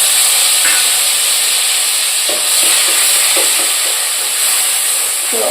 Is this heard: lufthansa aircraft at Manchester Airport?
no